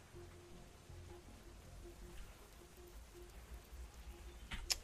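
Steady rain falling in the video game Cataclysm DDA, a soft, even hiss and patter running throughout at low level, with a faint low hum underneath and a brief brighter burst near the end.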